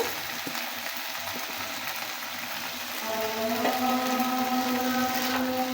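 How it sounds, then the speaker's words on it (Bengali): Meat sautéing in a pan gives off a steady, close sizzling hiss. About halfway through, a droning hum joins it, and no one speaks. "মাংসটা আমরা একটু কষিয়ে নিলাম।"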